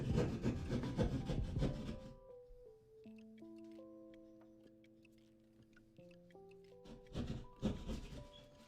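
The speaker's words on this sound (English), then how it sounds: "there's a reason why you use this saw." A hand saw cuts an opening in a closet wall, giving quiet rasping back-and-forth strokes at the start and again near the end, with soft steady tones filling the gap between.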